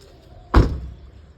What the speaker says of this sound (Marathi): लाव दरवाजा